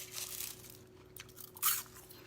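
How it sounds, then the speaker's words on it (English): Air-fried, oil-free kale chips crunch loudly and close during a few bites, with a sharp crisp burst near the end. "you could see that I'm gonna be here crunching for a while"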